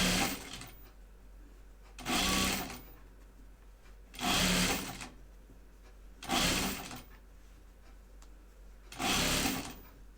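Sewing machine running in five strong bursts about two seconds apart, stitching binding onto medical masks, each burst loud and close with quiet gaps between.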